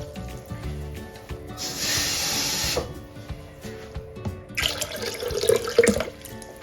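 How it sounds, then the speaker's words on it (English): Water is poured into a blender jar while making beetroot juice, in two short splashing bursts separated by a quiet pause. "Just going to add some water."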